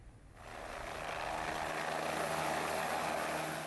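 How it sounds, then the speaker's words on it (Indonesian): Helicopter landing on a village field in Banjarwati, Paciran, Lamongan, East Java, a loud, continuous rotor and engine roar with a steady low thump, close and constant throughout. "Menggunakan helikopter, bakal calon Presiden Prabowo Subianto mendarat di lapangan Desa Banjarwati"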